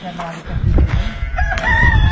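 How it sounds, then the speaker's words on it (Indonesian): A rooster crows loudly nearby on a rocky, barren mountainside settlement, its drawn-out call rising and wavering over low rumbling background noise, with a voice briefly audible. "ini lihat ada ayam kukuruyuk"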